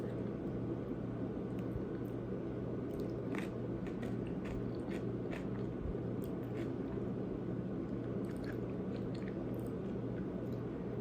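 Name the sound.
person chewing food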